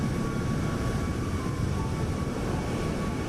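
Steady jet airliner cabin drone from a Boeing 737 MAX 8 in a flight simulator game, a continuous broad engine roar with faint tonal hums holding at even loudness throughout, no voices.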